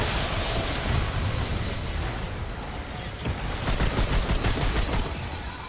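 Rapid gunfire from turrets in the game Remnant 2, a dense, steady crackling barrage that runs the whole time and swells toward the end, with no voices.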